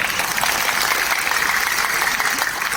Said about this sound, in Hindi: प्रमोद सर के लिए जोरदार तालियां हो